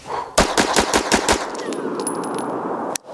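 Staccato CS compact pistol with a Holosun 507 Comp sight fired at a range, a rapid string of about seven loud close shots with a steady rhythm, then a lingering echo and a few faint metallic clinks.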